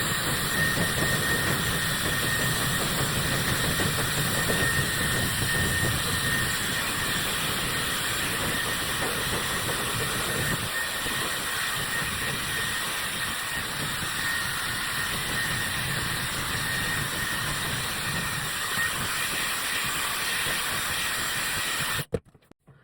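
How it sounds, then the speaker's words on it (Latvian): A Dyson hair dryer blows hair in a steady, close, loud rushing hiss that runs unbroken for about twenty seconds, then cuts off abruptly. "izpūšu matus. Vienkārši ar Dysonu"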